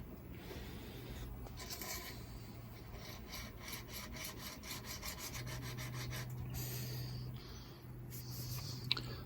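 A Veritas chisel is honed just behind the tip on a sharpening stone, making steady, rhythmic rubbing and scraping strokes close by, faint overall with a low background hum.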